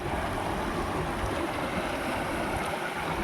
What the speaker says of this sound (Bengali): তো দেখো এখান দিয়ে জল আসছে